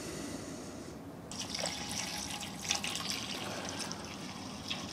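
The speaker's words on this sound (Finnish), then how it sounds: "Pannaan vesi tänne." Water poured into an ultrasonic cleaner with a little dish soap added, a steady broadband filling rush lasting throughout with brief splashy peaks, close and alone.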